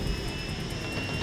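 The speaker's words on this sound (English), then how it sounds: "The helicopter lands, the lifeguards get onto the side of the skids, and then they take off." A lifeguard rescue helicopter at a beach, its engine and rotor giving a loud, steady roar with a faint pulsing throb, close by and continuous with no voices.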